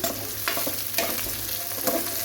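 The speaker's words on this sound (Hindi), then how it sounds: "प्याज को करेंगे हम ब्राउन" Onions browning in ghee in a pan, a steady close sizzle of frying with several scraping stirs of a utensil, loud and continuous with no talk.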